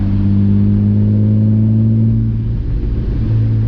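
A loud, steady, droning exhaust on an E30 with an S50 engine swap rumbles close by, holding a deep even tone with only slight variation throughout.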